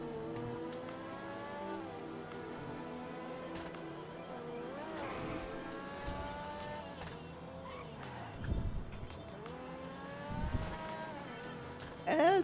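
A car in GTA Online pulls away with its engine rising and falling through gear shifts, a steady motor drone with a few louder bumps and a short burst at the end.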